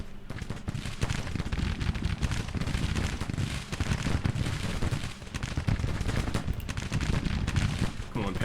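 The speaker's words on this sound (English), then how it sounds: "Yeah, this is a gunfight if there ever was one." Dense musket gunfight from a Civil War battle in Grand Tactician, a continuous crackle of overlapping rifle volleys and pops, loud and sustained throughout, with a voice talking over it.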